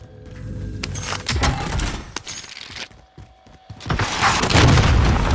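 Heavy booming rocket explosion in a shooter game, loud and close, with a sharp blast followed by rumbling debris and scattered impacts in a chaotic burst.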